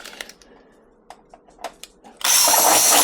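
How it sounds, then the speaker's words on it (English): A few faint clicks and taps, then a power drill starts up loudly to drill out a thread in a 3D-printed part, whirring steadily for the last second. "I think you just drill them out."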